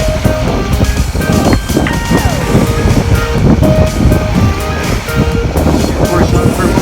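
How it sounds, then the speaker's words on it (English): White water splashes near rocks while sailing through the Knysna Heads in South Africa, a loud, steady wash of surf and water mixed with heavy wind buffeting and a boat engine rumble, with voices talking over it. "Splashing white water."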